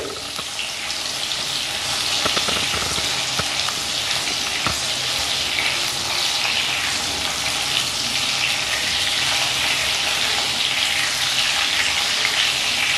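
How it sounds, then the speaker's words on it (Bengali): Pieces of rohu fish fry in a pan with a loud, continuous hiss and sizzle, close up and steady throughout, with a few soft clicks and no talk. "তাই জন্য কিছুক্ষণের জন্য একটু ভেজে নেব, বেশিক্ষণ ভাজার প্রয়োজন নেই।"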